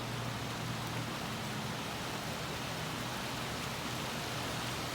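Steady rain falls in Las Vegas, a dense, even hiss of drops on surfaces continuing unbroken and fairly faint, with no voices.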